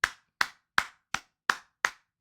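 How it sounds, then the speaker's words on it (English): Seven sharp, evenly spaced claps sound one at a time in a dry, quiet room, each a crisp single smack with a short decay and no crowd or talk around them. "Round of applause."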